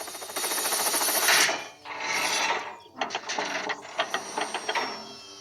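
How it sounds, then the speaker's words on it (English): A cartoon helicopter's jammed rotors grind and clatter as it tries to start, a dense mechanical ratcheting that runs continuously, dips, then breaks into a series of uneven sputtering bursts. "Oh, no! My rotors are jammed! I can't take off!"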